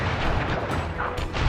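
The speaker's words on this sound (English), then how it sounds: "I will send you to your doom with the beauty of my new firework technique, Flame Foo." In the Sly Cooper video game, the Flame Foo firework attack goes off as a rumbling burst of booms and crackling pops, loud and dense through the whole moment with no voices.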